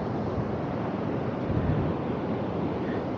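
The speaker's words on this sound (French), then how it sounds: "Et là, on les voit, les grosses vagues." Big ocean waves rolling in at Los Nanos de Meca, a steady broadband surf roar with wind buffeting the microphone, continuous and loud throughout with no pauses.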